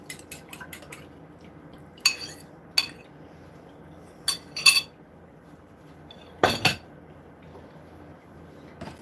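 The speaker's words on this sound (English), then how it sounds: "I'm just going to add that right to my dry ingredients" Wet ingredients poured into a bowl of dry ingredients for apple fritter batter, heard as a few sharp clinks and clatters of a utensil and dish against a quiet background, scattered knocks with pauses between.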